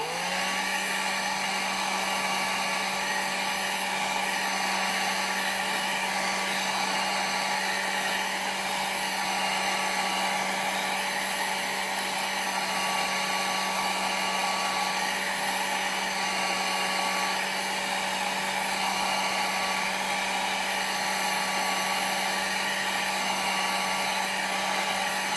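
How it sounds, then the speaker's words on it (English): A cheap 300-rupee electric hair dryer with low air pressure runs steadily on ink swatches, a loud continuous whirring hum and rush of air that holds unchanged from start to finish with no voices. "A lot of you are asking about the dryer that I'm using. It's a simple 300 rupees dryer."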